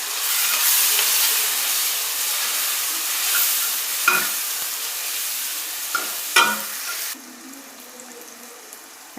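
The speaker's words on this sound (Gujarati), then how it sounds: "સરસ રીતે મિક્સ કરી લઈશું." Green chillies and tomatoes sizzle in a hot curry-leaf tempering for sambar while a spoon stirs them. The frying hiss is steady and loud, broken by a few scraping knocks of the spoon against the pan. The sizzle drops off sharply near the end.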